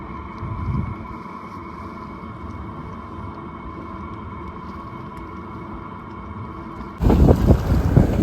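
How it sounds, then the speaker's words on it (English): A Bavaria 30 Cruiser sailing yacht motors down the Sound of Jura in blustery winter wind, with a steady engine drone beneath constant wind rush that suddenly swells into heavy buffeting gusts toward the end. "So we're just motoring down the Sound of Jura"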